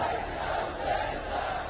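Dense roar of a large crowd at a Maratha reservation rally for Manoj Jarange in Maharashtra, steady and loud with massed shouting voices blending into a continuous wash, no single voice standing out.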